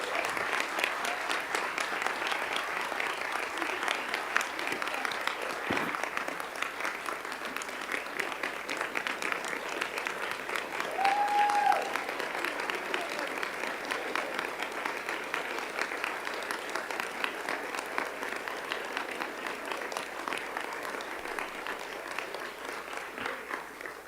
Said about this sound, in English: So a big round of applause for our retirees.